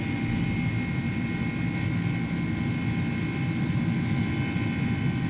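Airbus A300 jet engines at takeoff thrust in a flight simulator game, a steady loud roar that holds throughout with no break and no talk.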